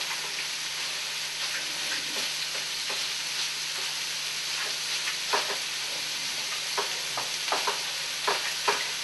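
Ground pork and hamburger meat fry in a pan with fennel and caraway seeds, giving a steady close sizzle broken by repeated scraping knocks as the mixture is stirred and broken up.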